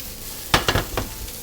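Smoked bacon hitting a hot pan as rabbit is cooked in one pan: a few quick sizzling bursts and scrapes, close and fairly quiet, with no talking.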